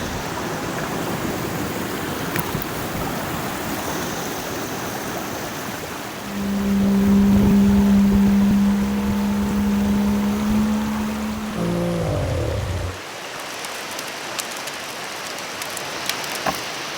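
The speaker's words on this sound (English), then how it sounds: "Bloody wind's still barreling upstream." Strong wind sweeps upstream along a New Zealand river, producing a constant rushing, blustery hiss across the mic, with a steady droning hum rising in the middle for several seconds before dropping away.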